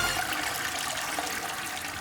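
Rushing water from a flushing toilet, a steady loud gush and swirl filling the whole moment without any talking.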